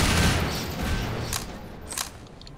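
Explosive barrels blowing up in Half-Life 2: a heavy, booming blast at the start that rolls and decays, followed by a couple of sharp crackling bursts as the debris settles.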